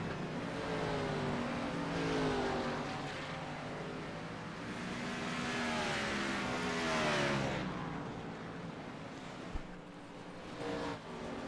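NASCAR Xfinity Series stock cars lap in the iRacing simulator, several engines whining and rising and falling in pitch as they pass, loud and continuous, with a short knock near the end.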